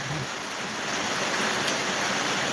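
Rain falls in a steady, even hiss that stays soft and constant throughout, with no voices.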